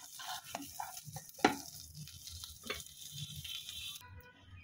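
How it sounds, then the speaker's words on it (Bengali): Potatoes and shrimp fry in a wok with a quiet, patchy sizzle broken up by spatula scrapes and stirring knocks, including one sharp clack near the middle. "আলু চিংড়ি মাছ একসঙ্গে আরো কয়েক সেকেন্ড একটু ভেজে নিয়েই এবার একটা প্লেটে আমি উঠিয়ে রাখবো"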